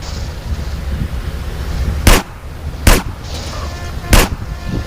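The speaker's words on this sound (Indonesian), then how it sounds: "Dia nggak takut suara senjata ya" Three sharp gunshots crack out at irregular intervals in GTA San Andreas gameplay, standing out over a steady background rumble.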